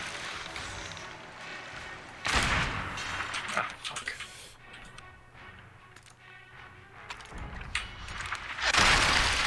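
Ship cannons firing during a Sea of Thieves naval game battle: two loud, heavy booms several seconds apart, the second fading out at the end, with rumbling sea and game ambience in between.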